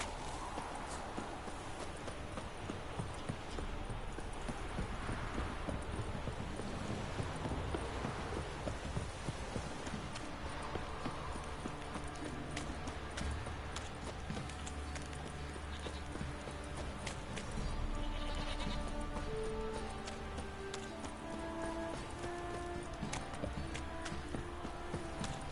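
A horse's hooves clip-clop steadily in The Witcher 3, a continuous trotting rhythm that runs the whole stretch, fairly quiet under game ambience with no talking.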